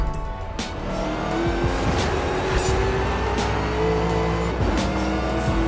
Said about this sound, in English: Another car that sounds like it's about to take off.